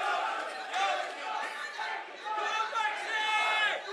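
Yorkshire fans at a boxing weigh-in cheering and shouting together, a loud continuous crowd roar with overlapping chants that swells and dips over a few seconds.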